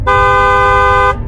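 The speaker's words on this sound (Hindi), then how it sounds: "तभी बस वाले अपने बस का हॉर्न बजाता है" A bus horn sounds one loud, steady honk that lasts about a second, rising over low background rumble and then stopping.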